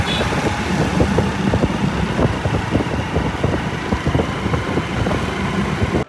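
Car engine idling and rumbling close by as the vehicle is driven out, a steady throbbing mid-pitched motor sound that runs unbroken, then cuts off abruptly.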